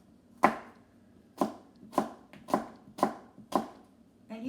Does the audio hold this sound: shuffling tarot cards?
no